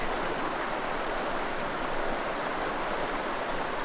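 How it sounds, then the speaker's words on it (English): LaBarge Creek in the Superstition Wilderness flows with a constant broadband rush of water, steady and fairly close, with no voices. "Back alongside the LaBarge Creek."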